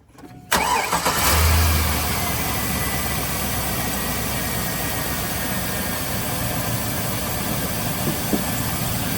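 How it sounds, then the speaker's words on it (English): A Chevrolet Silverado truck engine cranks briefly and catches, then settles into a steady, close, fairly loud idle that runs on evenly with a slight swell just after starting. "anything blows up while I'm starting the truck"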